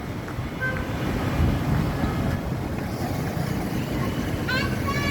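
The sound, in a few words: wind blowing before a storm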